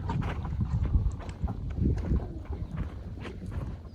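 Several horses walk down toward water outdoors, their hooves thudding and clopping unevenly on soft ground under steady wind buffeting the microphone.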